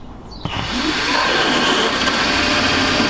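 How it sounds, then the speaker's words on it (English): A 3.2 mm drill bit boring a hole in a workpiece clamped in a vise on a mini lathe, starting with a sharp bite and then a steady, loud whirring grind, with no talking. "and we'll drill that one"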